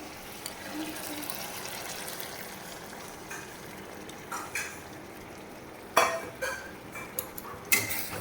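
Water seasoned with salt and turmeric goes into a pan of fried pabda fish and mustard masala, a faint steady sizzle followed by louder bursts of splashing and stirring toward the end.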